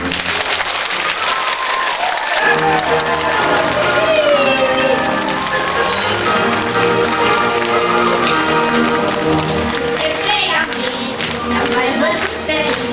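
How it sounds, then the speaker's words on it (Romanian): An audience applauds the actors at the close of a children's stage play, sustained dense clapping that carries on throughout while voices and music sound through it. "Dacă v-a plăcut povestea, actorii merită aplaudați."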